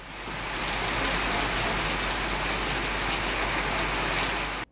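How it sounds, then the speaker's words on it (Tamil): Heavy rain driven by strong wind pours down steadily in Mettur, Salem district, a dense, loud, continuous hiss with no pauses and no voices. "சேலம் மாவட்டம் மேட்டூர் மற்றும் அதன் சுற்றுவட்டார பகுதிகளில் சுமார் 2 மணி நேரத்திற்கும் மேலாக சூறைக்காற்றுடன் கனமழை"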